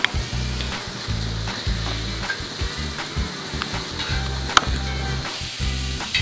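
Fish frying on a hot dosa griddle, a steady crackling sizzle with rhythmic low thumps and scraping, close and loud, no voices.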